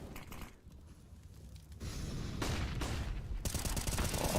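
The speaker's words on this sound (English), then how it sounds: "Oh, that is a flashbang" Counter-Strike gunfire and grenade effects in a Major pro match, GamerLegion versus NAVI, with a loud burst of broadband noise arriving near two seconds and continuing as dense, sustained rapid shots and bangs to the end.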